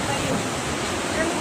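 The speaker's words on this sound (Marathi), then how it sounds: "लाटी बघू शकताय किती येतात ते" Seawater surging into the Koliwada fishing village of Pajpandhari, a steady broadband wash of breaking waves and rushing flood water, loud and continuous with no pause.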